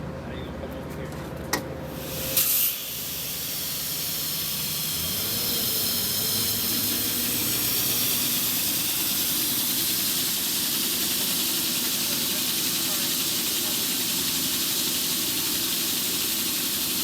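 A flush truck's sewer-cleaning nozzle sprays water with a steady, loud hissing rush that swells after a few seconds and holds, over a low engine idle.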